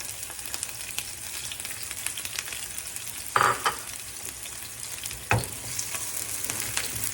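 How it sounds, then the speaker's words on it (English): Onion sautéing in a pan, a steady, fairly quiet sizzle with two sharper bursts of stirring or tossing midway, no voices. "And then we're going to add the onion and let that saute."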